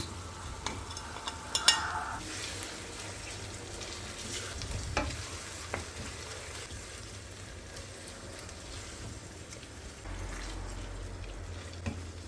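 Onion sautéing in a pan with pepper paste and tomato paste for a sour stuffed dry-vegetable dolma filling: a faint, steady low sizzle with occasional stirring scrapes and clinks, close by and with no talk.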